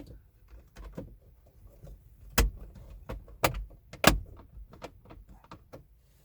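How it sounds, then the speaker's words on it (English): Plastic trim panel on a Subaru Forester or Crosstrek being pressed back into place, with several sharp snaps and clicks spread over a few seconds amid faint low rustling. "we'll simply put this trim panel back in place."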